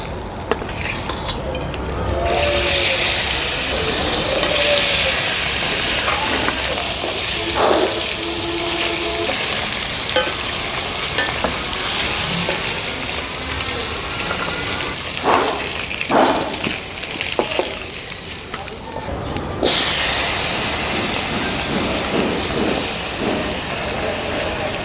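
Pieces of carp fry in hot oil seasoned with turmeric and chili powder, a loud, steady sizzling hiss with brief crackles and spatters throughout, rising sharply again near the end.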